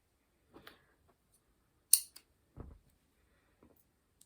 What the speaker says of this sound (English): And then I'm going to snip that cotton off.